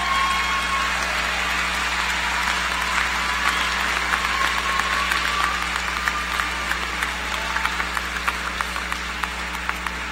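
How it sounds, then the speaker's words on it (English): Graduates at a spring university commencement ceremony applaud at length, a loud, dense, continuous roar of clapping from a large crowd, with a low steady hum beneath and scattered sharper claps standing out toward the end. "will the graduates please rise and give a round of applause in appreciation of those that supported you through this educational process"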